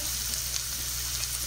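Shallots and garlic sizzle in butter in a hot pan, a steady, close frying hiss that runs through the whole stretch with no talking.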